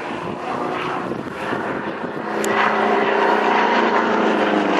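A Red Bull aerobatic propeller plane rolls through the sky at the 2010 Tauranga airshow, its engine drone loud and steady, swelling slightly halfway through as the aircraft passes nearer.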